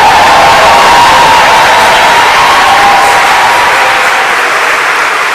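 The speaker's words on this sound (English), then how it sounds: "Let's give them a round of applause." A large audience at an 8th grade graduation cheers and claps for the class of 2022, a loud, dense and steady wash of sound that holds for the whole stretch and eases off slightly toward the end.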